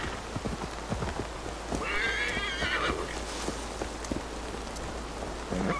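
Horse in Assassin's Creed Valhalla, a tired horse whinnying once mid-clip over soft clip-clopping hooves and a steady patter of rain, with no talking.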